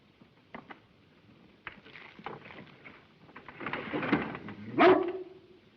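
A dog in the classic film The Call of the Wild gives a few faint barks and whimpers, ending in a louder rising whine, over a low, steady background rumble.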